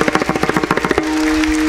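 Men in a devotional gathering audience clap together in a burst of loud rhythmic claps, after which a sustained tonal drone from the sound system carries on.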